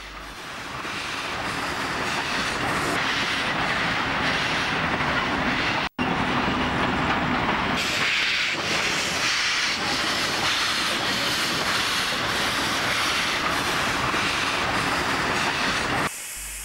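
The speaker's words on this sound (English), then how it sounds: "5035 shunts Brisbane Limited carriages near the station in October" New South Wales steam locomotive 5035 shunts Brisbane Limited carriages near a station in 1968, with a loud continuous roar of steam and rolling wagons and faint rhythmic clatter, steady and close for the whole stretch, with no talking.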